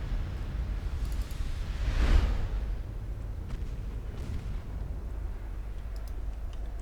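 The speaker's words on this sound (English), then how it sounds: "we do hit the enemy battlecruiser with torpedoes" Torpedoes striking an enemy battlecruiser in a 1920s-era naval strategy game, a single deep booming explosion swelling near the middle, then a low rumble that fades into steady background drone.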